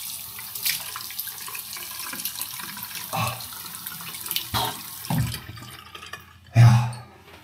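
Water running from a tap into a small hotel-room sink in an Italian town: a steady splashing flow that is interrupted several times by louder bursts and splashes as hands dip into the stream, close and alone, with no talk.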